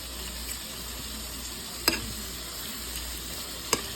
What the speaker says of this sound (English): stir fry noodles